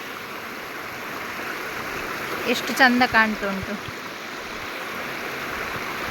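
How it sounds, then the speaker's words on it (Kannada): A stream flows over rocks beside a house in monsoon season, a steady soft rushing wash heard throughout while a person briefly speaks in the middle. "ಇಲ್ಲಿ ನೀರು ಬರುವಂಥದ್ದು. ಅಲ್ಲಿ ಕಲ್ಲಲ್ಲಿ ಹರಿದು ಬರ್ತದಲ್ಲ"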